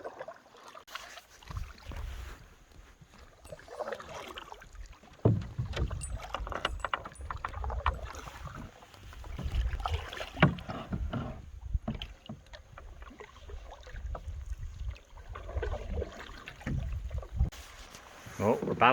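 A canoe paddles across water on an Algonquin Park lake loop, with dipping and splashing strokes and occasional knocks against the hull, as voices talk nearby and wind blows over the boat.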